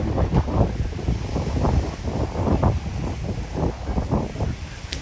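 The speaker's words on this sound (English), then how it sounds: "Man, it's windy." Strong gusting wind buffets the microphone in heavy, uneven bursts, with surf faintly underneath, at Centennial Beach in Barrie; no one speaks.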